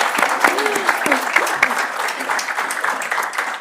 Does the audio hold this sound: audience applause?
yes